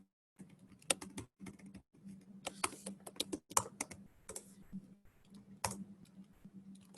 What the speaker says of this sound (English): maybe I should type this